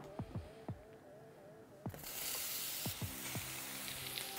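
Sliced onion hits oil in a hot pan and breaks into a loud, steady sizzle midway, following a few quiet knocks and squeaky tones in a quiet kitchen.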